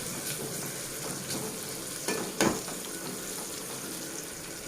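Tomatoes and green chillies frying in a pan make a steady, close sizzle throughout, broken by a brief louder scrape or stir about halfway through, with no voices.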